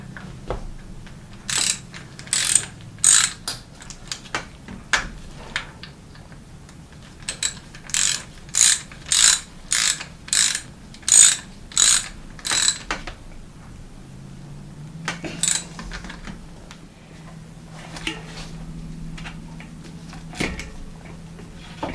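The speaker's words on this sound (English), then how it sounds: "Once you've done that, these two bolts on the side get tightened." Ratchet wrench clicking in quick repeated bursts while tightening the two side stem bolts on an old bicycle's threadless headset, close and crisp, with a pause and a few scattered mechanical clicks and a low hum afterward.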